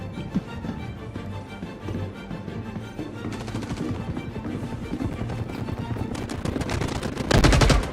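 Rapid bursts of automatic gunfire in the Star Citizen 3.20 space game, close and loud, with repeated volleys building to a heavy final burst; no talking.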